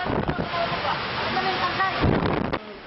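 Roaring wind and pounding storm surge from Super Typhoon Yolanda in Basey, Samar, a dense, continuous rush of wind-buffeted water that swells near the end, with voices faintly underneath.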